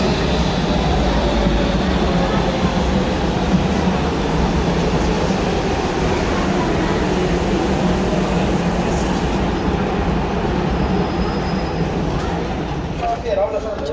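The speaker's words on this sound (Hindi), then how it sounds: "चलो आ गए मेट्रो।" A steady, loud rumble of a Berlin metro train arriving at a station fills the whole stretch, continuous and close, with a faint tone near the end as it slows.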